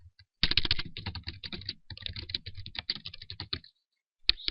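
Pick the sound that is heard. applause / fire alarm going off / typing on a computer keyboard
typing on a computer keyboard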